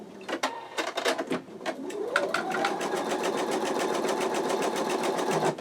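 An embroidery machine stitching the second colour of an in-the-hoop wallet, a fast steady mechanical chatter of needle strokes with a rising motor whir as it speeds up, and occasional sharp clicks early on.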